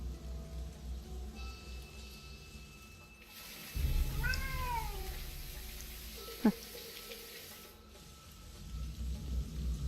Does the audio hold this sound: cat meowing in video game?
yes